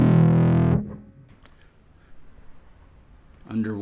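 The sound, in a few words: Yonac Roxsyn synth mixing distortion and clean filters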